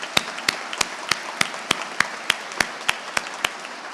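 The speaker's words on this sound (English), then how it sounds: "Round of applause for you." Sparse, evenly spaced claps ring out at a graduation ceremony, roughly a dozen sharp strikes at a steady beat over a quiet background, loud and close.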